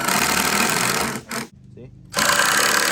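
A power tool drives a fastener into deck wood while building a simple deck for an off-grid cabin in the woods, a loud close buzzing whir that stops briefly mid-way and then resumes.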